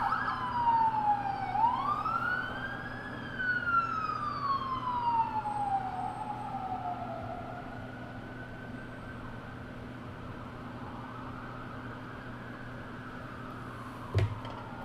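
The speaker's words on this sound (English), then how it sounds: "Oh, there's the sirens, always." Emergency vehicle sirens wail and sweep up and down outside an open window, heard at a distance over a steady hum of indoor background noise, with one sharp knock near the end.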